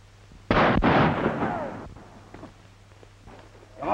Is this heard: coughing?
no